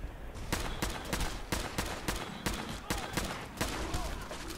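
Rapid bursts of gunfire in Fallout 4's Far Harbor expansion, about a dozen sharp shots in an uneven rhythm over a steady ambient game backdrop.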